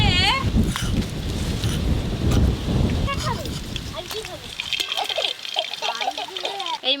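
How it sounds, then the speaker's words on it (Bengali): Wind gusts blow across a rural outdoor cooking area, roaring and buffeting the microphone in strong bursts before easing, with voices and a child's chatter audible through it. "যা হাওয়া হচ্ছে"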